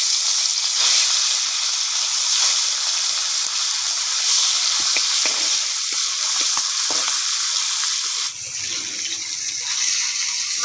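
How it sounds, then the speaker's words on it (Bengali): Freshly caught pond fish sizzle loudly in hot white oil, a dense steady frying hiss with small crackles up close, easing slightly near the end, no voices. "তেল গরম হয়ে গেছে, মাছগুলো দিয়ে দিচ্ছি।"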